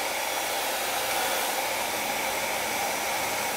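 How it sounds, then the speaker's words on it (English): A ghd Air professional hair dryer blows on its cool shot setting, producing a continuous close rushing of air with a steady motor hum that stays even throughout, with no voices. "if I press the cool shot, it actually lowers the temperature of the hairdryer immediately"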